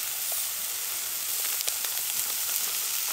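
Plant-based ground meat and onion fry in a pan at a van camp stove, a steady close hiss and sizzle with scattered soft pops and crackles throughout.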